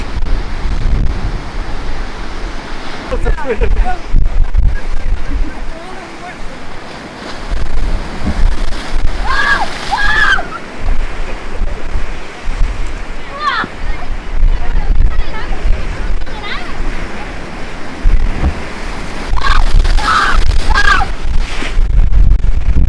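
North Atlantic ocean waves at Cadiz wash under heavy wind buffeting the microphone, with short bursts of voices now and then.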